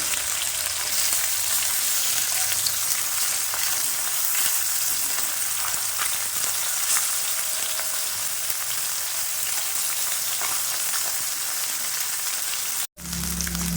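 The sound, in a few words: Gang Mourola fish frying in oil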